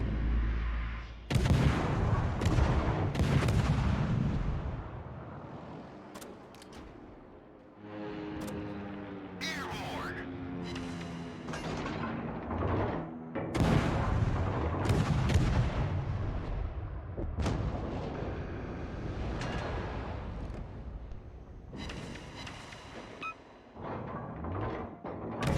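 Naval guns firing in World of Warships during a battle between tier 4 destroyers: loud, booming salvos crack out repeatedly, overlapping into a nearly continuous barrage of close heavy blasts.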